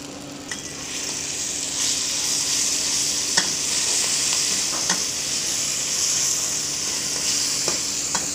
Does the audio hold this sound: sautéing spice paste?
yes